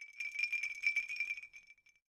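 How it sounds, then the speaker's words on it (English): A collectible Dream Fizzy Juice item on a stream overlay gives off light, bright glassy clinks in a quick tinkling run, fairly loud and close, fading out after about two seconds. "It makes little clinking noises."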